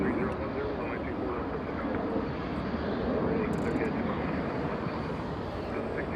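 A departing airliner at Los Angeles International Airport gives a steady, broad jet roar that holds at an even level throughout, heard from a distance with no break.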